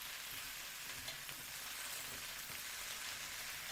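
Tofu and celery stir-frying in yellow bean sauce, a dense steady sizzle with faint stirring scrapes throughout, close and continuous with no talking.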